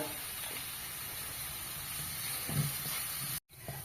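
Garlic and curry leaves sauté in a pan with a soft, constant sizzling hiss and faint stirring scrapes, low in level. A brief dropout breaks it near the end.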